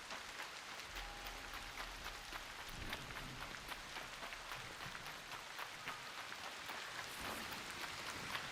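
Steady rain in a Godot-made game, a dense continuous patter of drops falling on surfaces throughout, fairly quiet with no voices.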